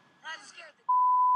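A brief muffled voice, then a single loud, steady censor beep tone that holds unbroken to the end.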